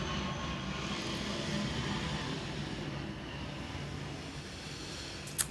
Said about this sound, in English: I'm just going to let this plane go past.